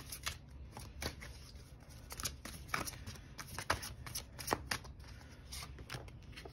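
Quick crisp riffles and flicks of playing cards being shuffled, coming in irregular bursts at close range with no talking.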